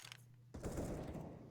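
Automatic gunfire from an MP9 and an AK in a CS:GO match kicks in abruptly after a quiet pause, a dense, loud stretch of rapid overlapping shots.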